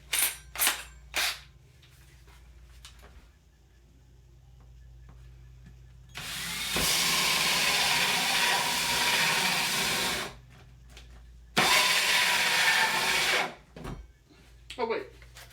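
A battery power drill whirs in two sustained bursts of several seconds each, with a few sharp clicks and knocks before, between and after.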